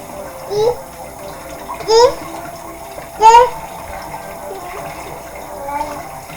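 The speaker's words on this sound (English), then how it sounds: "I'm going to wash my chicken until my water is clear." Raw chicken legs are washed in a kitchen sink under running cold tap water. Three short splashing surges rise over a steady low trickle, loud and close.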